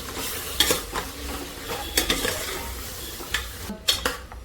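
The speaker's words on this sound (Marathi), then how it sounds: "मटण ॲड करून मिक्स करून घेते आणि मग तो हिरवा वाटण येतो ॲड करणार आहे मिक्स करते चांगला" Mutton stirred with green masala paste in a pan, a continuous moderate sizzle broken by repeated scraping and clinking strokes of a utensil against the pan.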